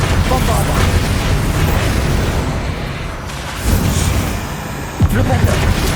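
Explosive Bombarda spell blasts boom in Hogwarts Legacy amid a loud, dense battle, with heavy thuds and bursts over a constant rumble and shouting voices throughout.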